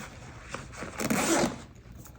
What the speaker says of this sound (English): Okay, so let's zip this up.